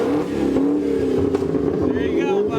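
Engine of a Ford Mustang Cobra at a burnout contest at Daytona revving hard and holding a loud sustained roar, close, with people talking over it.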